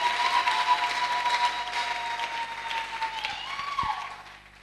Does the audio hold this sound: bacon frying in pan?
no